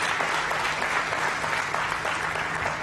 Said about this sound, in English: Clap for yourselves, ladies and gentlemen.